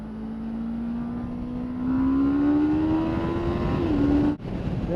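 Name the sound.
car accelerating hard in second gear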